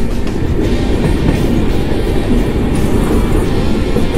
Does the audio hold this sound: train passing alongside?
yes